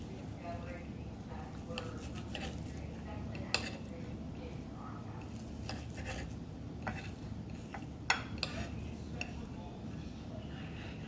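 A knife chops bacon into small pieces on a cutting board, making quiet, irregular taps and clinks with a couple of sharper knocks over a soft background, while someone talks lightly.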